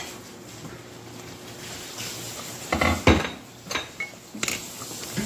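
Cashews stirred in a cooking pot for Indian butter chicken, with soft background clatter giving way to a few sharp scrapes and clinks of a utensil against metal toward the end.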